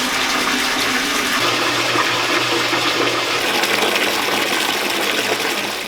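Water gushes and churns steadily in a bathtub holding a plastic tub where a raw CVM wool fleece is being washed. The loud, continuous splashing and rushing water fills the space without pause, with no talking.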